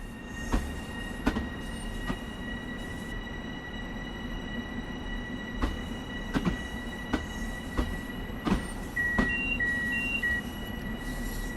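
A train runs along the tracks in Train Sim World 2, with a continuous rolling rumble, a steady tonal whine and periodic sharp clacks as the wheels pass rail joints, heard alone without talk.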